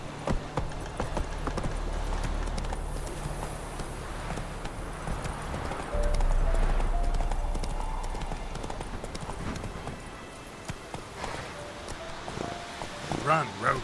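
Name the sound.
horse galloping in video game The Witcher 3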